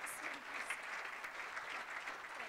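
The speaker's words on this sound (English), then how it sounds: "could I ask for a big round of applause for Natalia and a wonderful moderator?" Conference audience applause for a panel speaker and moderator, a soft, distant patter of many hands clapping steadily without a break, low in level with no clear voices on top.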